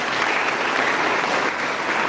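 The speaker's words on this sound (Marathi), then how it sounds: "त्या लोकराजासाठी एकदा जोरदार टाळ्या वाजल्या पाहिजे" An audience at a lecture on Chhatrapati Shahu Maharaj bursts into loud, dense, sustained applause, many hands clapping continuously and close throughout.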